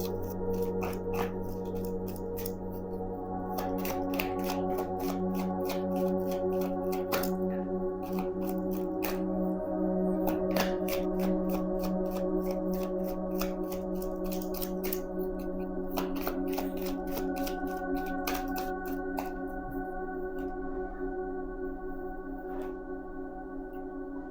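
Tarot cards shuffled and drawn by hand, a steady run of soft papery riffles and flicks over a constant low background hum, close and moderately loud, with no talking.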